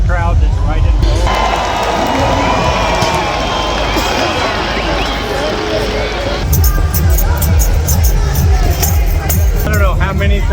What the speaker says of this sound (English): We're in this large crowd over to the side.